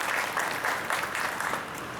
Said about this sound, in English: Let's give the councilman a strong round of applause for bringing us all together.